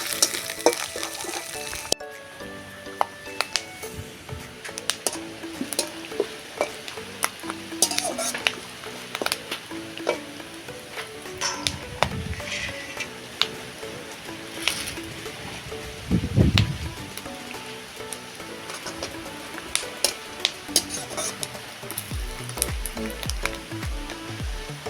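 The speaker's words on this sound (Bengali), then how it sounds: "আমি ভালো করে তেলেতে এটা ভেজে নেব বাদামটা" Peanuts sizzle in hot oil in a pan while a spoon stirs and scrapes repeatedly, with sharp clinks against the metal over a continuous frying hiss.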